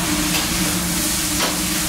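Peppers and onions sizzling on a hibachi griddle, a steady loud hiss and crackle with a brief scrape partway through, no voices.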